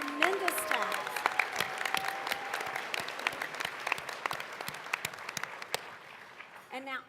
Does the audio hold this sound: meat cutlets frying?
no